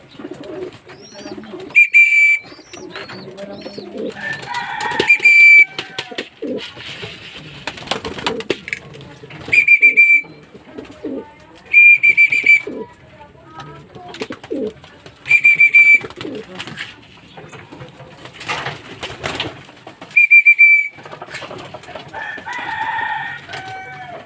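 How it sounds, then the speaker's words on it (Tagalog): Pigeons fly into their loft in repeated bursts of wingbeats with short bird calls and a high whistle-like tone, separated by quieter gaps; someone speaks now and then. "papapasok na tayo ng ating mga ibon"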